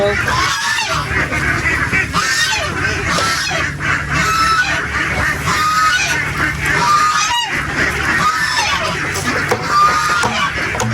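A flock of geese and ducks honks continuously and loudly at feeding time, harsh overlapping calls filling the whole stretch close by.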